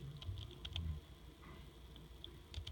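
Keys on a computer keyboard tapped in a short quick burst, then a single firmer press after a pause and a couple more clicks, quiet and close in a calm room with no talk.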